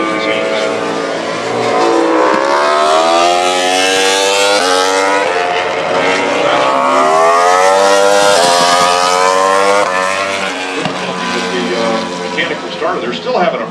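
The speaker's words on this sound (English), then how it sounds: "Mechanical starter, they're still having a problem getting that bike started." MotoGP motorcycle on a mechanical starter at Austin during qualifying, its engine whirring and revving in a loud sustained drone that rises and falls as it struggles to catch, with commentary talking over it.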